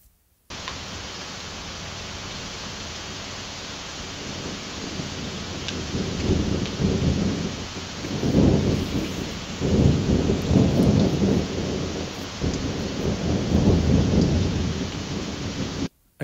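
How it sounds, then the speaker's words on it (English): An AI-generated thunderstorm sound effect: steady, dense rain hiss runs throughout, with several deep thunder rumbles rolling in and swelling toward the middle and end. "Okay, well, I can definitely hear thunder."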